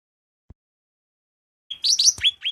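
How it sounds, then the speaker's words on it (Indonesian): After a stretch of near silence and one faint soft knock, a blue-winged leafbird (cucak rante) gives a short, clear phrase of high whistled notes. "Cucak rante atau blue wing leaf bird, juga dikenal dengan sebutan burung daun sayap biru."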